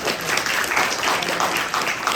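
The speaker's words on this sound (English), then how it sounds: "actually a big round of applause for him" A short burst of audience applause, a thick, continuous patter of many hands, moderately loud and steady throughout.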